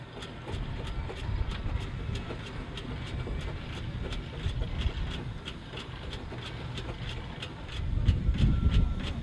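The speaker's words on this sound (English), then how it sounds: "Big Fowler Road locomotive now" Fowler steam road locomotive moving at the Rempstone steam and country show, with a steady regular beat of chuffs over a continuous rumble that grows heavier toward the end.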